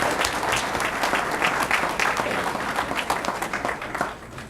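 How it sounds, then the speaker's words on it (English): Applause at a political campaign kickoff, a crowd clapping steadily and moderately loud with distinct individual claps audible, tapering slightly at the close. "Let's give them a round of applause."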